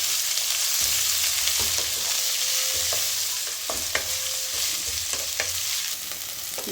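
Onions frying in a pan for tomato curry, a steady close sizzle with occasional stirring scrapes and clicks of a spoon against the metal.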